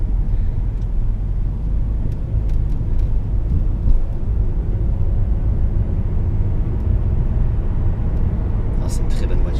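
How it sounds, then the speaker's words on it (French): A 2011 Peugeot RCZ with its 1.6 THP engine heard from inside the cabin, a steady low engine drone and road rumble with a slight swell midway, under ongoing talk. "il serait temps de réveiller un petit peu le moteur"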